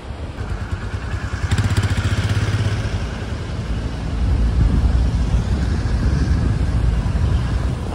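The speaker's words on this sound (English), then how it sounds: "I just heard my buddy roll in with the Sportster. It's a different, different sound." A Harley-Davidson Sportster motorcycle rolls in with a steady, rumbling low engine drone that swells a little louder partway through, heard outdoors at moderate distance with no talking.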